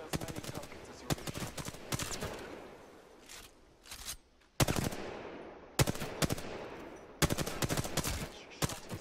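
Automatic gunfire in the Apex Legends video game, rapid bursts of sharp shots with short pauses between volleys, loud and close.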